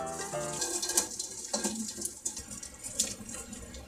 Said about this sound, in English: We're gonna strain the potatoes now